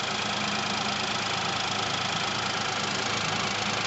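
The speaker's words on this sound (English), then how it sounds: "You can see the engine there ticking over." A 2018 Hyundai Kona 1.0 T-GDi turbo petrol engine idling steadily, a constant even hum with a faint ticking texture, close up and uninterrupted.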